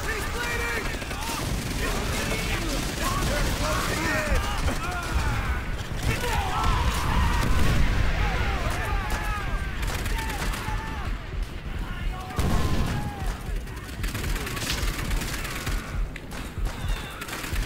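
Call of Duty World at War combat against a fortified bunker machine-gun nest: dense, continuous rifle and machine-gun fire with heavy blasts. Shouting voices run under the steady barrage throughout.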